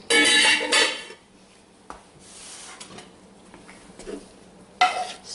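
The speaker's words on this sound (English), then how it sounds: "Now I'm going to add my sautéed vegetables." Softened sautéed vegetables tipped into a pot of Thanksgiving dressing: a loud clatter of utensil on pot at the start, then quieter scraping and stirring, and another sharp clank near the end, up close with no talk.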